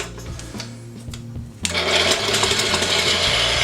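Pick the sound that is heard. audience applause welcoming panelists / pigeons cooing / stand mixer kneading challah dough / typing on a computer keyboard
stand mixer kneading challah dough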